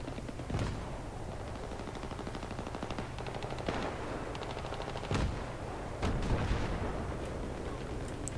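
Battlefield 3 gunfire on the Seine Crossing conquest map, with rapid machine-gun bursts and sharper single shots, some near and some distant, rattling continuously at a low overall level.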